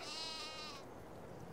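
A single sheep bleats in the farming game Farming Simulator 22, one short wavering call that fades after under a second, faint and alone over quiet background noise.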